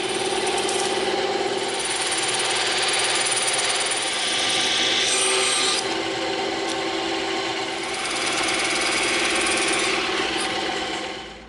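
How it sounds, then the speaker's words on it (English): A bandsaw cuts through EVA foam with a continuous, close, raspy whine, its pitch shifting slightly as the blade works through the piece, with no voices. "Now when we come in and we cut this out on the bandsaw, it's going to be perfect on both sides."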